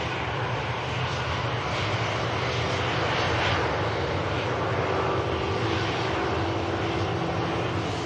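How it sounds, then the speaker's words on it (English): A Brussels airliner taxis at Manchester Airport, its engines giving a steady, loud broadband roar that holds evenly throughout with no voices over it. "As the Brussels is about to taxi by."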